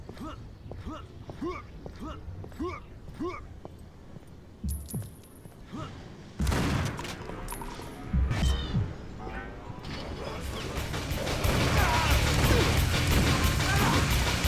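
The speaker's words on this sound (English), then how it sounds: "Explosions mean business." Heavy crashing blasts and rumbling booms in the video game Painkiller erupt midway and continue in a dense, loud roar, following a stretch of softer clattering and muffled voices.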